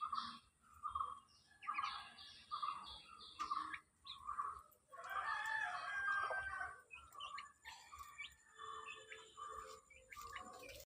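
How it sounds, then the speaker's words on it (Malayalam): Chickens cluck and call repeatedly at a family home, including a large hen that has just laid eggs, with bursts of bird calls and some faint background voices. "ഇതാട്ടോ നമ്മളെ വലിയ കോഴി"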